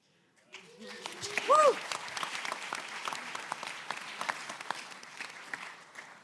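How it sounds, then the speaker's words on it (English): Audience applause fills a large arena-style event hall, steady dense clapping from a crowd that starts abruptly and carries on throughout, with a brief whistle-like tone near the start. "I like the applause. Let's keep that going."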